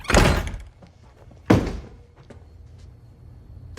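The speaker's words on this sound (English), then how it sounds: "Shut the front door." A front door is shut in an action film scene: two heavy, close thunks land about a second and a half apart, each a sharp slam that quickly dies into a quiet room.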